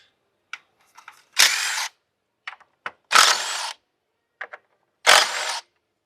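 A power drill removes bolts from the intake of a Hyundai Veracruz engine in three short, loud whirring bursts, each followed by faint clicks of handling between runs.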